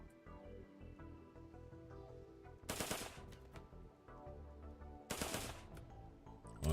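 An assault rifle fires during a firefight in the video game RimWorld. There are two sharp bursts of rapid shots, each about half a second long, over a steady bed of game music.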